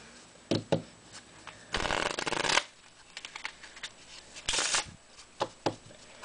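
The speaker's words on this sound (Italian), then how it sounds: "Andiamo a mescolare il mazzo in questa maniera." A deck of playing cards is shuffled by hand in a quiet room, with two longer riffling bursts and many short soft snaps and taps between them, close and fairly faint.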